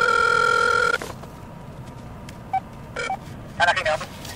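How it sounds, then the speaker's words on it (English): A cell phone rings inside a car through a cellular booster, a steady electronic ring for about a second, loud and close, followed by faint road hum and short bursts of talk. "it's ringing right at a spot where we had no service"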